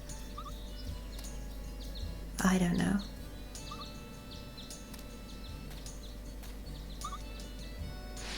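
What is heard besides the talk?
chicken clucking in the video game Story of Seasons: Pioneers of Olive Town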